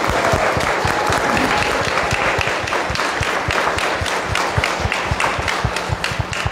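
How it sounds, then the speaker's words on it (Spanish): Children applaud their parents at a First Communion gathering, a dense, steady burst of many hands clapping together that stays loud and unbroken throughout. "Niños, un aplauso a los papás"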